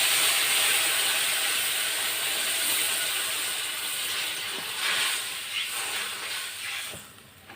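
Water poured into a pan of potatoes frying in spices hisses into a loud, steady sizzle that gradually eases, close and with no talking.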